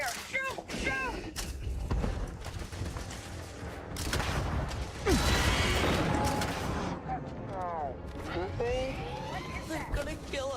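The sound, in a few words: gunfire in the video game Star Citizen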